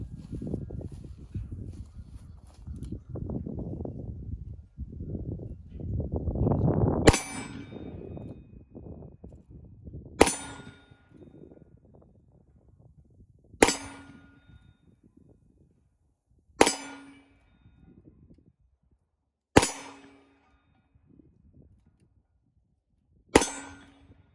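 Six sharp gunshots from a Smith and Wesson Model 547 revolver firing 9mm 115 grain rounds, spaced about three seconds apart, each a loud crack with a short ringing tail, after a stretch of rustling handling noise.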